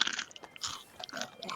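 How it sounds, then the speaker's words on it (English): Close, crisp chewing of pizza, with soft crunching bites and wet mouth sounds in an irregular rhythm, quiet and with no talking. "It's not because I can hear you chewing."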